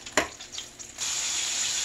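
Chicken fries in hot oil in a home kitchen, a close, steady sizzle that swells and holds after a brief clatter at the start.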